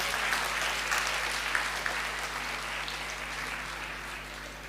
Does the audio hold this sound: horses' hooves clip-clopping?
no